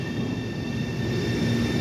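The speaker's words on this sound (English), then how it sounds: "This is the outbound train going to Forest Hills." An MBTA Orange Line outbound subway train toward Forest Hills rumbles steadily at close range, a loud continuous rolling roar with a high electric whine held over it.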